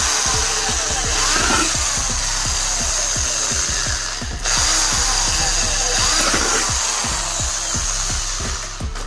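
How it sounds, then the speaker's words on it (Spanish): Electric power tool drilling a hole in a homemade lamp fixture, a steady loud whirring with rhythmic ticking pulses throughout and one brief dip midway, no speech. "Y ahora sí, vamos a perforar."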